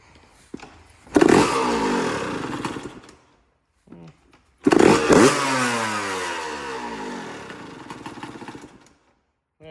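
A Suzuki RM125 two-stroke dirt bike engine, kick-started during a build, runs loud and close in two bursts of raw revving, dropping briefly to near silence between them before settling back to a high buzzing idle.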